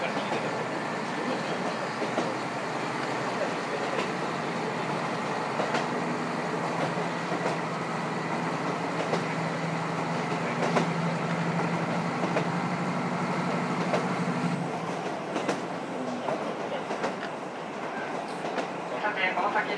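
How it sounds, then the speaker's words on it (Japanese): A KiHa 54 diesel railcar rumbles steadily along the rails between Horonobe and Wakkanai, Japan, a continuous close mechanical roar with a low hum that fades after about fifteen seconds. "この先列車は稚内の市街地へと入ってまいります"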